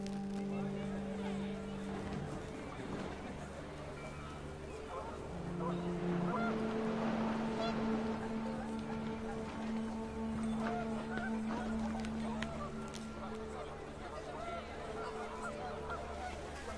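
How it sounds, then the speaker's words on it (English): Panicked geese honk amid wind on a blustery day outdoors, the honks overlapping into a sustained clamour over a steady low drone, with a narrating voice over the top. "panicked geese appeared and quickly went"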